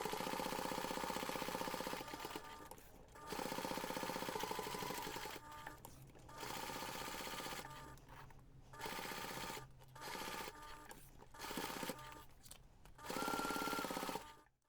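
A sewing machine bastes a pocket of a jewellery pouch in place, running in several bursts of steady mechanical whirring separated by short pauses, close and fairly loud, with no talking.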